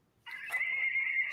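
A short, thin horse whinny from a toy sound book that starts abruptly and holds steady for about a second, tinny and close, with no voices.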